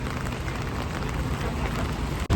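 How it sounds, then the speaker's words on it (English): Steady rain falls on a New York City street near Times Square, a dense continuous hiss with a brief dip and thump near the end; no one speaks. "It's very rainy."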